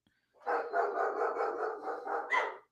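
A dog barks repeatedly in a quick, steady run of loud, close barks for about two seconds, with no talk over it, in a home setting during an online sports discussion.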